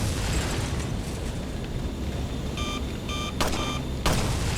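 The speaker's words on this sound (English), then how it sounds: "Just shoot one. They'll both blow up." Enemies exploding when shot in Resident Evil 4, a run of muffled bursts and booms over a rumbling game backdrop, with short beeping tones and a sharp final blast near the end.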